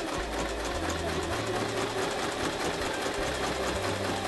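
A Kreshay sewing machine runs close and steady, sewing a stitch pattern with a rapid continuous mechanical chatter and a low rhythmic thump underneath.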